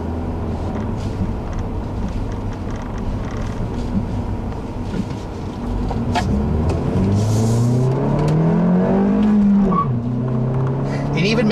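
A 2014 Ford Fiesta Titanium with a 1.6 engine and five-speed manual accelerates, its engine note rising in pitch through the gears under steady road and cabin noise.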